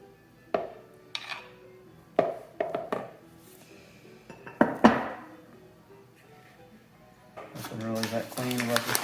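Sourdough starter is stirred in a bowl, heard as a series of sharp clinks and scrapes against the bowl, some close and loud, with a denser clatter at the end and speech mixed in.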